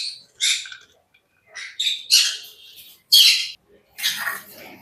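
Pet birds being served morning soft food squawk and chirp in short, loud bursts, about five separate calls with brief pauses between them.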